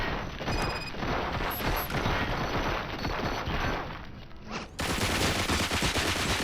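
Dense gunfire in RoboCop: Rogue City, rapid continuous bursts of automatic shots with booming impacts, loud and close, briefly dipping before a renewed heavy volley.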